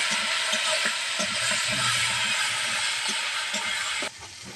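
Spice paste with turmeric, chili powder and salt being sautéed for a banana flower dish, a dense, loud sizzle up close with rhythmic stirring knocks, dropping off abruptly near the end.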